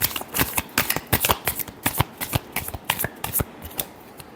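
Tarot cards shuffled by hand, a rapid run of close, crisp riffling flicks in an uneven rhythm for a few seconds, alone.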